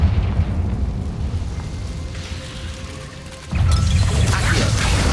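Bombarda and Confringo spells in the game Hogwarts Legacy set off rumbling blasts, a steady roar that drops back before a sharp, louder burst near the end, with no voices.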